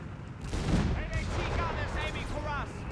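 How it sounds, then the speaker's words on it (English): Anti-tank gun shot in the Company of Heroes 3 video game, a loud boom with a rumble early on, followed by distant battle noise under someone talking over it. "Good shot there from F3rig's anti-tank."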